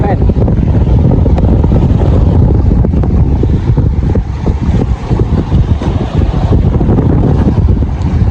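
Strong wind on a fishing boat roars and buffets the microphone in a loud, continuous low rumble, with gusty fluctuations throughout.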